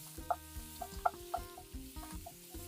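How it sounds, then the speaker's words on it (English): Onion and celery fry in butter in a pot for a South African potjie, a faint sizzle under a run of soft utensil taps and clinks spaced irregularly throughout; no talking. "Let's add our onion and our celery. Just give that a fry off till it's nice goldy color."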